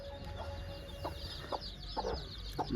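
Domestic chickens cluck softly several times at a distance over a steady outdoor background hum, with short separated calls and no talking.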